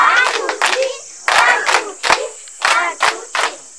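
Students at a physical exercise session clap and shout together in rhythmic bursts, roughly six loud group outbursts of clapping and voices separated by short pauses, close and energetic.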